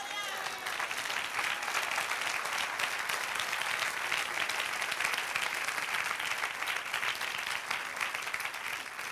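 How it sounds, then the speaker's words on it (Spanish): A church congregation applauds during a sermon, a dense, sustained wash of many hands clapping that fills the room evenly for several seconds, with some voices mixed into the crowd. "Dale un aplauso, Señor."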